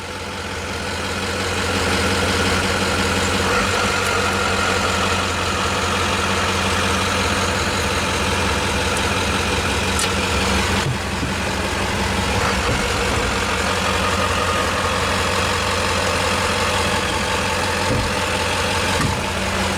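A 1993 Chevrolet 3500 truck engine runs steadily after its first start in years, a loud, continuous low rumble at idle with a faint change partway through and no talking.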